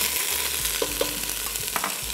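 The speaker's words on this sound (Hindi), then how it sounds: "मोटा कीमा इस्तेमाल करेंगे और इसको डाल के करेंगे अच्छे से भुनाई" Coarse beef mince for an egg keema biryani fries in a pot, a dense steady sizzle with a few soft stirring scrapes, close and unaccompanied by speech.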